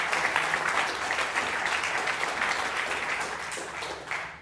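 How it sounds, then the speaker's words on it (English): An audience claps steadily at a talk on US-Saudi relations, a dense, even wash of applause holding for several seconds before easing slightly near the end. "let's clap for him"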